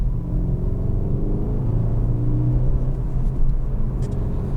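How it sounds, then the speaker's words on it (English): A 2016 Skoda Octavia vRS idles in sport mode with a deep, steady V8 burble, a low throaty rumble that holds constant and close. "It really is a reassuring sort of a V8 burble to the whole thing."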